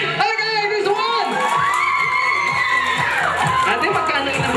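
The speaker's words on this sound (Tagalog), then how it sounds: "May sigawan po." Children and guests at a seventh birthday party shout, cheer and whoop together, a loud continuous crowd roar with rising excited cries and chatter throughout.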